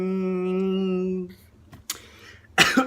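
A steady tone holds for about a second, then after a short pause a person coughs twice, two sharp close bursts, the second louder and rougher.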